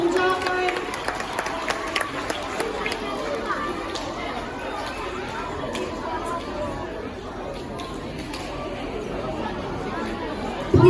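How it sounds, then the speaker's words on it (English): A school assembly audience applauds inside a gym or hall, with steady clapping and crowd chatter blending into a continuous roar under a speaking voice. "Round of applause for our Maroon ticket polls."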